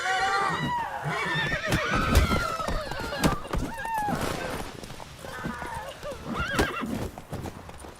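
A horse in The Witcher 3 whinnies loudly and gallops with rapid clip-clop hoofbeats, close and continuous, while game characters speak over the action.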